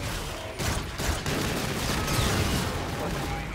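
Gunfire in Call of Duty: Infinite Warfare from a specialist pistol, a dense burst of shots layered with other weapons and game noise, loud and continuous throughout.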